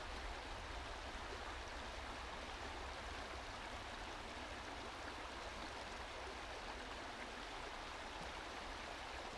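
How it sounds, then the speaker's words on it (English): River rapids rush across a slippery rock in Big Brushy Creek with a steady, even roar of flowing water. It is faint and constant with no breaks. "the slippery rock right there with all the rapids going across it"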